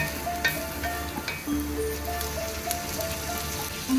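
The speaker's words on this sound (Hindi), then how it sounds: "लौंग और साबुत काली मिर्च, ये इसमें ऐड कर देंगे और इसको थोड़ा सा हम लोग फ्राई करेंगे।" Whole cloves and black peppercorns fry in hot oil for restaurant-style Arabian rice, giving a steady close sizzle with scattered small crackles and pops and no talking.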